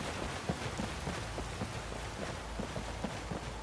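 Steady rain falling in Skyrim's game weather, a continuous soft hiss of drops on surfaces with faint scattered patter, no voices.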